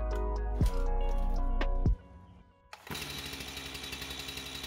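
A Stihl MS251 chainsaw coughs into life after repair work and settles into a rough, rattling idle with rapid, uneven pulsing, loud and close, following a few seconds of handling clatter.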